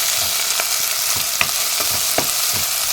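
Meat with onion frying in olive oil, a continuous bright sizzle with scattered sharp pops and crackles of spitting oil, close and steady, with no voices.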